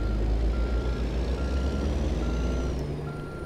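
Reversing beeps from a Kenworth W900 truck backing up in American Truck Simulator, a steady repeating tone over a loud, constant engine drone, with no voices.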